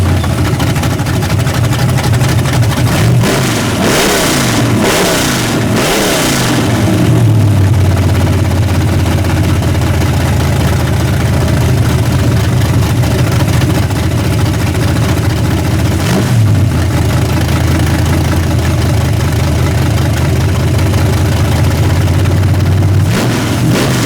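A 1974 Chevy Nova V8 fitted with a new carburetor cranks, fires up and revs several times before settling into a loud, throaty idle, close by with no talking.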